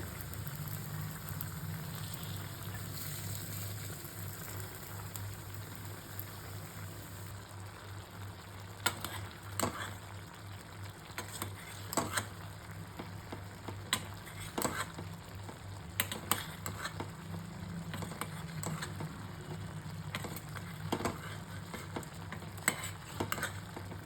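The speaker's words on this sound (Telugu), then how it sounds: "ఫ్రై చేసుకున్న చేప ముక్కల్ని వేసి ఒక ఐదు నిమిషాలు ఉడికించాలి" A salted fish curry with brinjal, tomato and cucumber simmers in a pan, giving a steady, rain-like bubbling hiss dotted with soft irregular ticks and pops.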